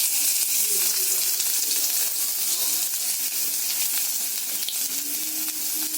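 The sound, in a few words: frying onion, curry leaves and green chilies in pan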